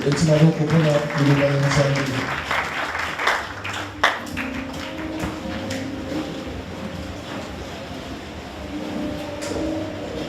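A church congregation claps and cheers for the word of God during a sermon, the loud applause mixed with voices and shouting at first, then thinning into scattered claps and murmuring talk.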